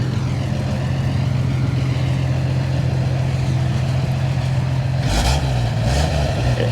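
A 1956 Chevy 3100 pickup engine idles with a steady, low rumble close by, and a few brief louder bursts come near the end.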